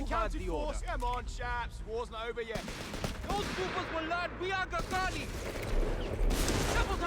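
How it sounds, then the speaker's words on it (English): Artillery barrage and gunfire in the Company of Heroes 3 video game, with dense booms and rattling shots running throughout under continuous talk. "Now we are going to start taking the incoming close fire from our artillery"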